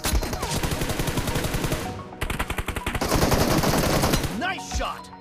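Rapid automatic gunfire from a TDM-mode shooter video game, with dense bursts of shots running nearly continuously at close range, a short break near two seconds, then further sustained firing.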